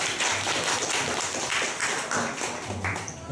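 A small audience at a Taichung self-introduction event claps in welcome, a brisk, close smattering of hand claps that carries steadily for a few seconds.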